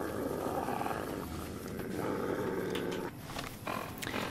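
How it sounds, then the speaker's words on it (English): Growling and snarling beasts in the video game Fallout New Vegas, a continuous rough roar that fills the whole clip at close range, with a brief dip near the three-second mark. "It is really some dogs in here."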